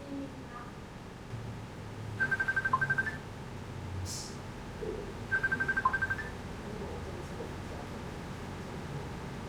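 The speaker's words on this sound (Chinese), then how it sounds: "我现在准备打电话给" A telephone call rings out on the line: two separate bursts of a steady electronic ringback tone, a few seconds apart, heard clearly over a low, hissy background with no talking.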